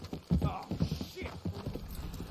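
Horse hooves clip-clop at a slow, uneven pace close by in the video game Red Dead Redemption 2, with talk mixed in over them.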